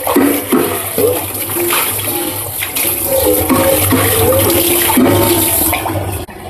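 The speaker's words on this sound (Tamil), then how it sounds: "எப்பயும் போல் சோப் போட்டு நம்ம பாத்திரத்தை க்ளீன் பண்ணிக்கலாம்" Pots and vessels being washed with soap and running water at a kitchen sink after making homemade ghee, a steady loud gush of water and rinsing splashes throughout, no voices.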